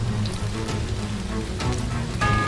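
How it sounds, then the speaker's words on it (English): Heavy rain pouring down steadily in the video game Fuukan no Grasesta, a dense unbroken hiss with a low rumbling bed and no voices. "even in this pouring rain"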